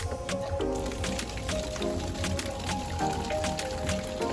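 Pumped water drawn from the bottom of a fish pond pours steadily into a homemade pond filter, a continuous splashing, gurgling flow with a motor hum beneath it, close and fairly loud throughout.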